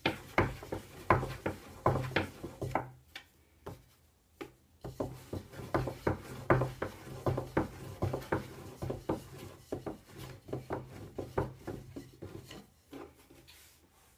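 Small yufka dough sheets for lahmacun being rolled out by hand, a rolling pin thumping and rubbing on a wooden board in an irregular series of close knocks and scrapes, with brief pauses.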